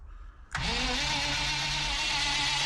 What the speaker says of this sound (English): I'm trying to start the engine using the ignition button and see if the bus finally comes back to life.